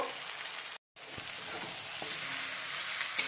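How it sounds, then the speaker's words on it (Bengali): Fish heads sautéing in a hot pan for a moong dal, a steady close sizzle and frying hiss with occasional stirring scrapes, briefly cut to silence near the start. "দিয়ে দিচ্ছি মাছের মাথাগুলো, মাছের মাথাগুলো দিয়ে ভালো করে একটু কষিয়ে নেব।"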